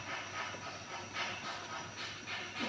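Sinigang sa kalamansi broth heating in a pot toward a boil, giving a steady, fairly quiet hiss with soft bubbling that swells and eases in gentle waves, with no talk.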